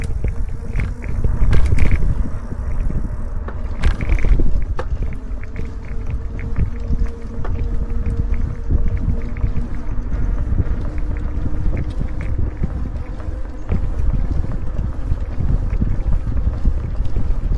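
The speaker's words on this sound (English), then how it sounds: "a little something about the Lectric XP4 bike that I'm riding" A Lectric XP4 e-bike rolls along a path, heard as a constant low rumble of tires and motor mixed with heavy wind buffeting on the microphone, with a few knocks early on and no talk.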